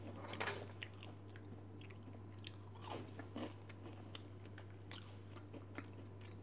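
Someone bites into and chews an almond-topped chocolate muffin, giving soft crunches and moist chewing, quiet and close, in a few uneven bursts.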